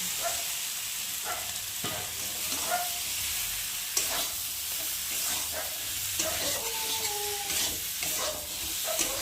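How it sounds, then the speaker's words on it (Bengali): Boiled potato and taro are stir-fried in spiced masala in a hot pan, giving a continuous close sizzle broken by repeated scraping stirs of the spoon. "এখন সিদ্ধ করে রাখা আলু আর কচুটা দিয়ে একটু ভালো করে কষিয়ে নেব"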